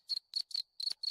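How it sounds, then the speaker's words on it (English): A cricket soundboard effect plays five sharp, evenly spaced chirps, each a short trilling burst, clear and isolated against silence. "There's a cricket."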